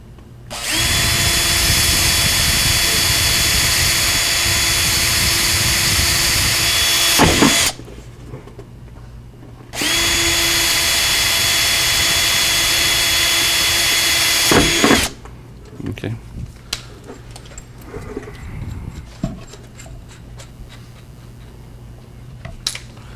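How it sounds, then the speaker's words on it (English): A power drill whines at high speed in two long bursts, each running several seconds before stopping, followed by clattering and handling noises. "drill my other two"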